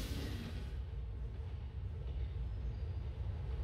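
A J subway train rumbles steadily along the track in GTA IV, a continuous low, close roar with a faint hiss of wheels and no pauses.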